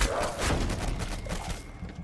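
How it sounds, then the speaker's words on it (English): Gunshots fired at zombies' legs in a video game, a loud continuous wash of shooting with thuds, steady for the whole short stretch. "I'm going to shoot their legs"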